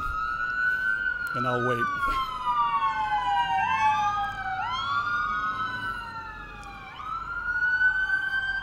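Ambulance sirens wail past at a commemorative outdoor dedication ceremony at Moosehead Lake, rising and falling in repeated swooping sweeps over several seconds, loud and near, while someone speaks briefly underneath.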